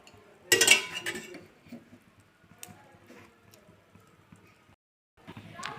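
A metal kadai is set down on a stove with a loud close clatter, followed by lighter scattered clinks of a spoon adding oil, with quiet gaps between them.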